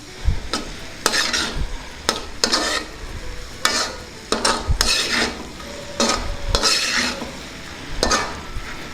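Masala powder is stirred into a pudina cabbage curry in a pan, with a spoon scraping in a steady rhythm of strokes over a soft sizzle, close and clear.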